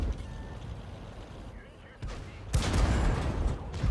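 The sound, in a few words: tank cannon fire in World of Tanks video game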